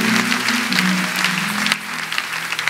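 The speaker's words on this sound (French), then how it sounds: "Acclamons Jésus" A church congregation applauds at a French-language worship service, steady loud clapping throughout with a brief dip partway, no speech.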